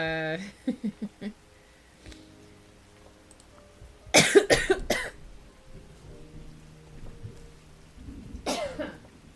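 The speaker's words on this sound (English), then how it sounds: "laughing makes me cough" A person coughs after laughing: a few short laugh-like bursts, then a loud cluster of close, harsh coughs and one more cough later, with brief voiced sounds between.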